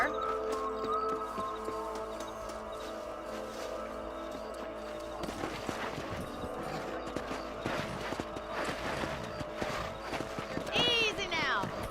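Steady hoofbeats clip-clop at a walking pace from a horse being ridden in Red Dead Redemption, close and continuous, with voices talking over the hooves and a brief whinny near the end.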